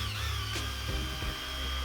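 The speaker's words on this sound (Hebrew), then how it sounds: "אנחנו נחבר שואב אבק ונעשה ליטוש קטן. המכונה היא אורביטלית" An orbital sander runs steadily while sanding American-style spackle on a wall, a continuous whirring motor hum with a vacuum hooked up for dust-free sanding, close and fairly quiet, with no talking.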